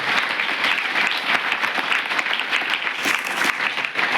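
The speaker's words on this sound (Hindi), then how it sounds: "जोरदार तालियां ठोकर के लिए" Steady, dense applause from an audience at a wrestling akhada event, loud and sustained throughout with no break.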